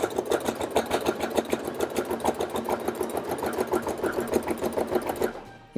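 A sewing machine stitching a fabric Christmas tree along a marked line, running with a fast, even mechanical chatter close to the mic for several seconds before stopping abruptly.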